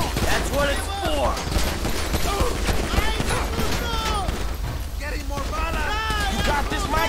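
Gunfire in the crime game GTA V, rapid shots under loud, overlapping shouting voices and busy game noise, the bursts dense and close throughout.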